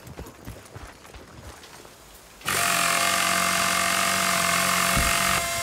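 A repaired vehicle's engine in Battlefield: Bad Company starts up abruptly after quiet footsteps and settles into a loud, steady droning idle that holds to the end.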